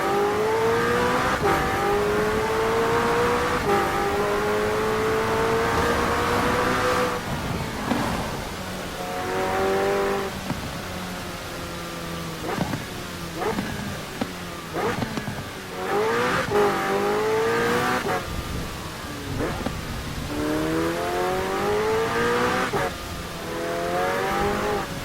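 A McLaren 600LT in Forza Horizon 4 drives through rain, its engine revving and shifting in repeated rising sweeps, with occasional tyre squeal, close and steady throughout.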